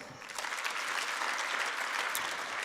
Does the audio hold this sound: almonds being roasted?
no